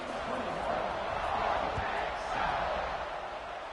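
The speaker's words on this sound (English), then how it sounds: "this crowd is buzzing after that last score" A football stadium crowd buzzes after a score, a continuous, moderately loud roar of many voices with no distinct cheers standing out.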